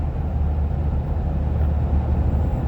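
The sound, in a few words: 2016+ Toyota Tacoma engine after shifting into 6th gear downhill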